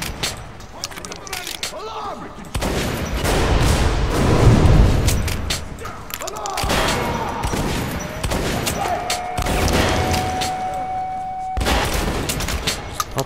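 Gunfire from the shooter game Metro: Last Light, with dense bursts and booming shots running continuously and loudly through the scene, sometimes with a voice talking over them.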